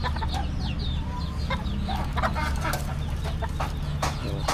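Japanese bantam chickens cluck and chirp in short overlapping calls at a backyard farm coop, close and moderately loud over a steady low hum.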